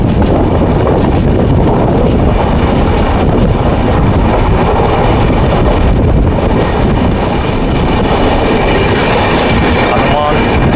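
The Nagercoil Express (16339) pulls out of Guntakal station after a halt, filling the space with a loud, continuous rolling rumble. Wheel clatter and heavy wind buffeting run through it without pause.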